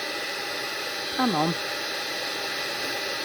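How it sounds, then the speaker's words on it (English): A heat gun blows a steady, loud broadband hiss while heating puffy embossing-style paint for a snow effect in a paper craft project, with a brief voice speaking over the constant airflow. "I'm hoping you can hear me talking over the noise of my heat gun."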